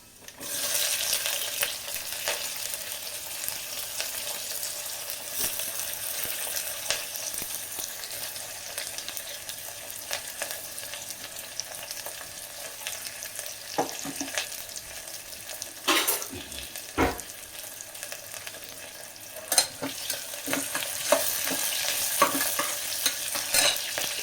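Garlic and onion sizzling loudly in hot oil for Khandeshi masala khichdi, with continuous frying hiss and occasional stirring scrapes and clacks, close up, no talking.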